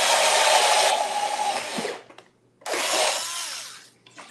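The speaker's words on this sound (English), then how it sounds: "we're going to drill a hole" A power drill whirs loudly in two bursts while drilling holes in wood, winding down and briefly stopping before spinning up again for a second run.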